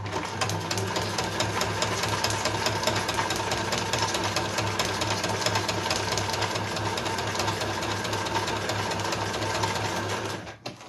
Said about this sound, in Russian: пока я тут шью